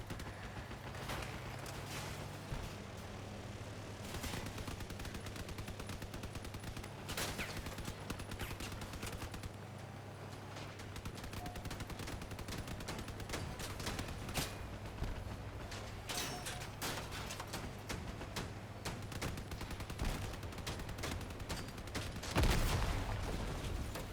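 Rapid sustained machine gun fire in the vehicle combat game Crossout, dense continuous rattling bursts that go on throughout at steady volume over low engine rumble.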